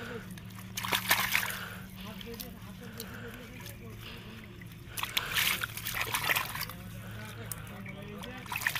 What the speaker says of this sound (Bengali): ভালো করে ধুয়ে নিচ্ছি।